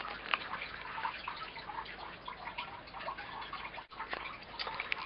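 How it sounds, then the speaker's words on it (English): Steady splashing and trickling of water from an aquaponics system's return flow, a continuous close wash of droplets with a brief dip near the end. "And also the returning water splashes quite a lot"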